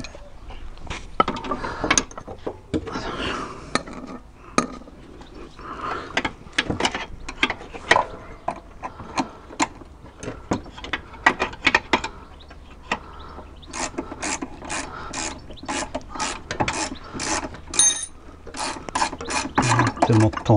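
Ratchet wrench tightening a bolt on the lower wishbone of an Alfa Romeo 166, close and steady: irregular bursts of rapid clicking pawl strokes with short pauses, faster and denser toward the end, no talk.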